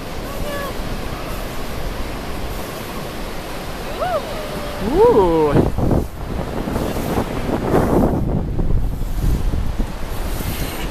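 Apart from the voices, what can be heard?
ocean water washing up on the beach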